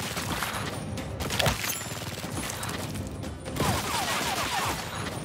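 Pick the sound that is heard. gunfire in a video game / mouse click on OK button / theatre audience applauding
gunfire in a video game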